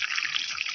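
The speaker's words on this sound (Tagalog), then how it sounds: "Ilagay na natin ang ating kakang gata." Thick first-press coconut milk pours into a cooking pot of ginataang papaya with smoked fish, a brief, steady, close liquid stream with no other sounds.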